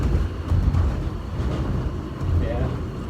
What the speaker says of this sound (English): But the rest of this train ride is just a single file.